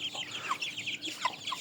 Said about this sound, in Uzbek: Mana bunaqa jo'jalar ko'pda.